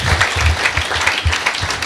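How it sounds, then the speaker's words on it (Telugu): A church congregation at a Sunday service claps hands in praise, a brief burst of close, steady applause with a few louder individual claps, with no talk over it. "చప్పట్లు కొట్టి దేవునికి స్తోత్రాలు తెలియజేస్తాను"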